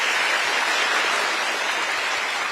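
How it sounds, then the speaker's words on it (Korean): Dense, steady applause from an audience at a Korean town-hall style Q&A event, many hands clapping together in a continuous loud wash that holds evenly for the whole stretch. "여러분 다시 한번 박수 부탁드립니다."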